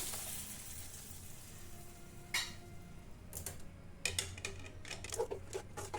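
Curd is stirred into hot uppittu in a pan. A faint, soft sizzle runs under sharp clinks and scrapes of a spoon against the pan, which come in a quick cluster toward the end. No one speaks.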